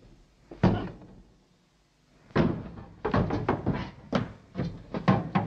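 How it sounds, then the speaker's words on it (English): A stuck door being bashed down in a Doctor Who episode: one heavy thump, a pause, then a run of repeated hard wooden bangs and knocks in quick succession, close and loud, with no talk over them. "the door to the quarters is stuck and so the Doctor bashes it down"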